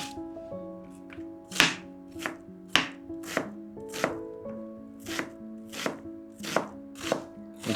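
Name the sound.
chopping red onion with a knife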